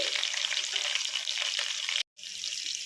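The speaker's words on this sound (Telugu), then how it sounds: "ఇప్పుడు దీంట్లో కొంచెం పచ్చిమిర్చి వేసుకోవాలండి" Green chilli frying in a pan gives a steady, close sizzle and crackle that cuts out abruptly for a moment near the end, then resumes more quietly; no one speaks.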